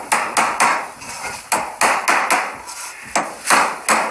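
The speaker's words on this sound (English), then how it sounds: "now we're gonna hammer home all these 4 pieces" Wooden pieces are hammered home with a series of sharp, close knocks in irregular groups of two and three, each strike ringing briefly in a quiet room.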